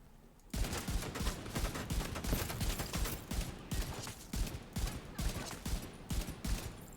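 Gunfire in The Division 2 shooter game starts abruptly after a short quiet lead-in, then continues as a long run of rapid, evenly spaced automatic shots, loud and close for several seconds.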